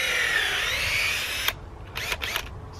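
A drill boring a tap hole into a maple tree, with a steady whining power-drill run that cuts off, followed by a few short scraping bursts outdoors.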